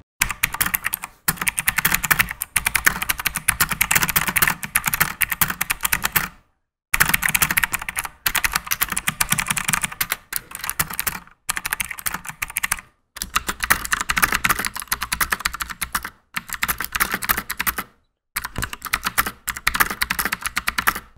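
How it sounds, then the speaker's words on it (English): Fast, steady typing on an Ant Esports MK3200 mechanical keyboard with clicky MX Blue-style switches, crisp sharp clicks in continuous bursts with a few brief pauses, close and loud. "both of these switches are extremely clicky, and the noise both of these make overall is more or less the same"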